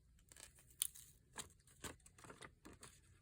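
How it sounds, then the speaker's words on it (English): Faux vintage tape is torn by hand in a journal-making session: faint, close ripping and shredding sounds come in several short bursts, with light crinkling between tears. "This one just doesn't want to tear right. Look at this. It just keeps shredding."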